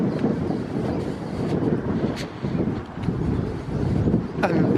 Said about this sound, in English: It's got very windy all of a sudden.